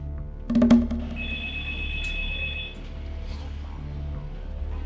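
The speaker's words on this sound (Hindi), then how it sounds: "आवाज बदल बदल कर वो रितिका के घर पर लगातार फोन किया करता था।" A telephone rings once with a steady electronic tone after a brief clatter, over a low background hum.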